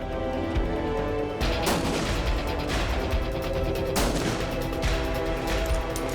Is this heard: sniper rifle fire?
yes